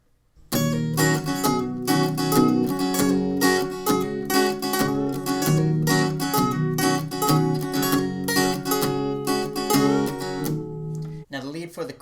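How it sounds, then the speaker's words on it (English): Acoustic guitar playing the lead part of a song, with plucked notes and string bends over strummed chords, steady and close for most of the passage before stopping near the end. "So I'll play the lead part all together."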